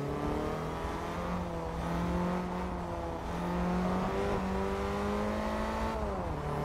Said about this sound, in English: It's been quite an enjoyable race driving around here with the Celica.